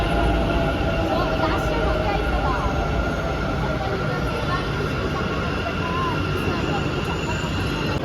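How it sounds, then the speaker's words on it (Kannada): A Bengaluru metro train arrives, rumbling steadily with a rising mechanical whine and rail noise, loud and continuous throughout. "ಮೆಟ್ರೋ ಬರ್ತಂದು"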